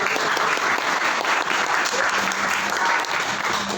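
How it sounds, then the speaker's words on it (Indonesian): Students in a classroom applauding a group presentation, with brisk, continuous clapping close by at a fairly loud level throughout. "Bagus ya, tepuk tangan."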